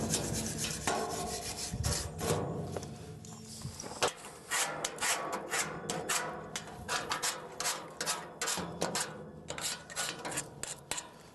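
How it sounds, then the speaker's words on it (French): A brush scrubs across a wooden surface before Owatrol oil is applied, producing a close, raspy rubbing in repeated quick strokes with a few knocks against the wood. "Éventuellement, un petit coup de brosse derrière."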